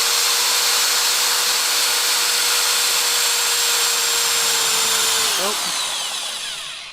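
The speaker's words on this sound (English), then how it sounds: "we're going to get some drill bits, drill out these corners" A power drill whirs steadily at high pitch, loud and close, drilling out the corners of a car bumper, then catches and stutters near the end as the oversized bit binds and it winds down.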